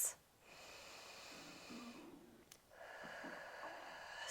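Slow 360 breathing during a hypopressive pelvic floor exercise: a sharp nasal inhale at the start, then long, soft, airy breaths with faint expansion sounds, quiet and close, no talking.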